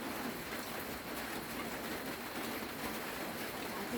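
Steady rain falls on a rainy day, a dense, even hiss of drops on surfaces, loud and continuous with no voices heard.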